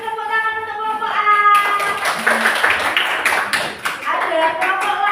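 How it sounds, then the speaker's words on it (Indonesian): A group of students claps together in a classroom for a presenting group, the clapping starting partway through and mixing with voices talking over it. "Mari kita kasih tepuk tangan untuk kelompok A."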